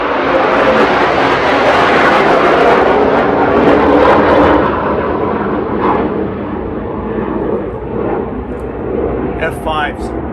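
A pair of F-5 jet aircraft fly over, a loud broad roar that swells, peaks, then gradually fades as they pass into the distance.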